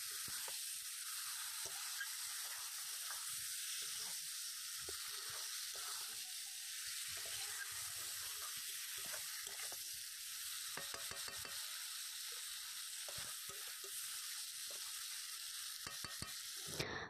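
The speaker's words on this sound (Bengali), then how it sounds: "মাংসটাকে কিছু সময় কষিয়ে নিতে হবে।" Meat sautéed in a spiced gravy, a soft continuous sizzle and hiss with faint intermittent scraping and clicking from stirring, quiet and without speech.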